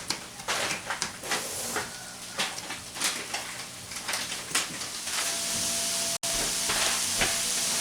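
Water boiling in a copper pan for macaroni, a rushing, hissing bubble with bursts of agitation, close and steady, briefly cutting out near the end.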